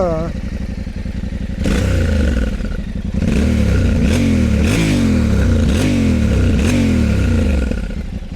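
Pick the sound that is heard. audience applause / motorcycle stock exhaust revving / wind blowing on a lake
motorcycle stock exhaust revving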